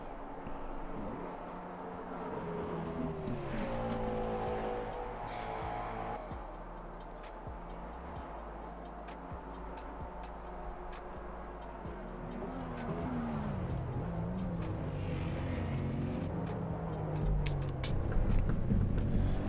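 Race cars in a multi-class LMDH/GT3 sim racing game at Spa roar steadily, with engine tones rising and falling through gear changes as they battle closely, mixed with commentary-style talk.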